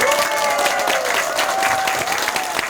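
A crowd at a Korean party members' talk event gives sustained, loud applause with a thin steady tone ringing over the clapping throughout.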